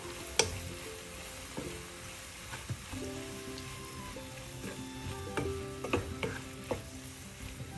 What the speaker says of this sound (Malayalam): നന്നായി മിക്സ് ചെയ്യുക.